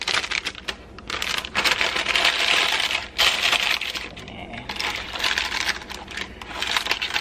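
Sheet of baking paper handled and crinkled while preparing a banana cake, a steady close rustling and crackling that runs through the whole stretch with brief dips, no talking.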